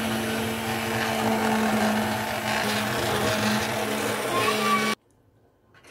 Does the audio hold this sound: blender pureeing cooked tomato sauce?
yes